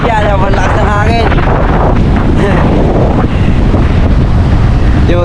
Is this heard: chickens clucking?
no